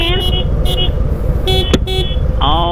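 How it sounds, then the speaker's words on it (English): A loud BMW car horn blasts several times in short and longer bursts on the road beside a Harley motorcycle, over a steady rumbling engine and wind roar. "Whose horn is that? That would be the BMW."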